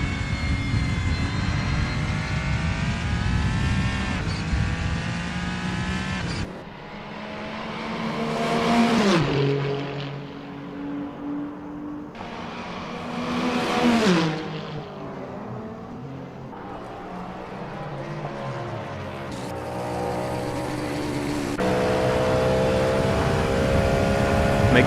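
Race car engines in Assetto Corsa at Road America, with Le Mans Daytona hybrid (LMDh) cars: loud, steady engine drone with pitch sweeps as cars rev, shift and pass, no talking.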